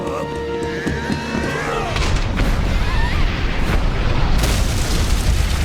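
A bomb hidden in a bow tie detonates at a Tekken ending, a loud booming blast that swells after a quieter lead-in of tones and rolls on as a sustained roar.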